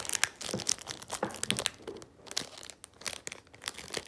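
A Pokémon TCG card pack being torn open by hand, with close, crisp crinkling and tearing of foil wrapper in irregular bursts, no talking.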